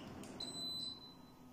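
An air conditioner gives a single faint, steady electronic beep as it is switched off, a thin tone lasting about half a second over quiet room hum.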